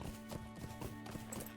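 A horse's hooves clip-clop at a steady trot in The Lord of the Rings Online game, quiet and even in rhythm under a soft game ambience.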